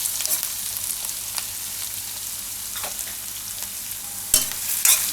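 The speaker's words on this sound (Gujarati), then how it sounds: "અને દૂધીને થોડીક વાર પાકવા દેવું તેલમાં વચ્ચે વચ્ચે હલાવતા રહેવું." Chopped bottle gourd frying in hot oil in a pan, with a steady sizzle throughout and a few scraping stirs of a spoon, louder near the end.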